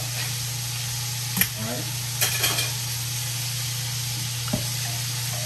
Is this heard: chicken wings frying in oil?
yes